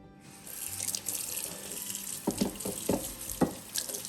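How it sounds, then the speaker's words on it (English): Ears of corn are washed under a running kitchen tap, with a steady splash of water and a few soft knocks as the cobs are handled. "Now we're gonna take our corn and we're gonna wash them."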